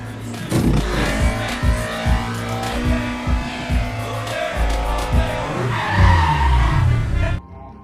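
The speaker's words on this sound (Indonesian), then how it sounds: "inilah salah satu keahlian Connor yang dapat memacu mobilnya" Racing car from a Fast & Furious film with tires skidding and squealing, engine revving in bursts between screeches, loud and close, with film score underneath and a brief voice.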